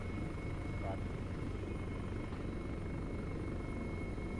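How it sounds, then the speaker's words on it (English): A helicopter drones steadily at a distance during a military operation, a constant low rotor rumble with a faint voice over it. "Okay, tally on the helicopter."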